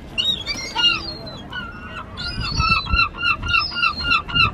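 Gulls call repeatedly at a seaside beach in Margate, a run of loud, harsh squawks and cries close by over a background of wind and beach noise.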